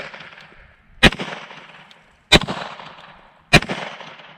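Three gunshots aimed at a bowling pin target crack out loudly at even spacing outdoors, each sharp report trailing into a short echo before the next, with no speech.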